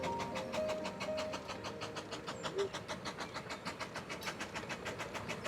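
Steady clickety-clack of a train rolling along a visitor attraction railway, with regular rail-joint beats throughout, a faint whistle-like tone early on, and moderate, continuous loudness close by.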